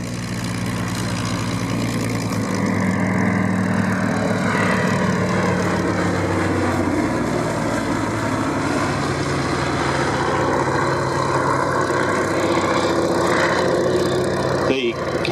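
Catalina flying boat engines droning at an air show, a loud, steady propeller roar that holds throughout with a commentator talking over it.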